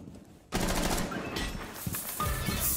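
Video game gunfire in Rainbow Six Siege, a sudden loud burst of rapid automatic shots after a quiet start, continuing densely with sharp cracks through the rest of the round.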